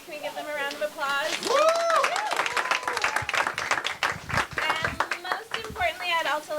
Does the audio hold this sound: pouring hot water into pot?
no